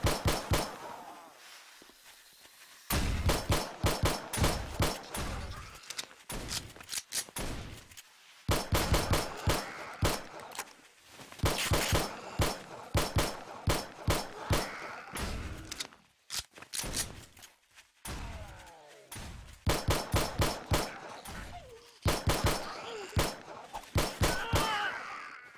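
Rapid bursts of gunfire from a hunting rifle in the zombie survival video game 7 Days to Die, sharp cracks arriving in dense clusters with short pauses between volleys, loud and close throughout.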